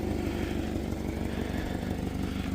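A 1997 Toyota Camry engine running with an exhaust leak gives a brief, fairly quiet rapid chattering putter heard up close, steady and unbroken, with nobody talking.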